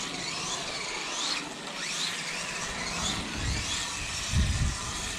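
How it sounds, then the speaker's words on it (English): A Linxtech 16889 1/16-scale RC monster truck spins out one wheel as its differential gives way, letting out a high, wavering motor whine that rises and falls in repeated sweeps, with a rougher rumble near the end. "as soon as the diff gives way, one wheel, it starts spinning out"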